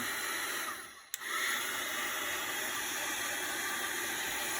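A heat tool blows steadily while drying a journal page, a loud continuous broadband whoosh with a brief dip and sharp click around one second before the airflow resumes at full strength.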